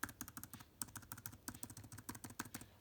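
Typing on the keyboard of a 2008 Apple MacBook Pro, a quick, steady run of close, crisp key clicks with no talking over it.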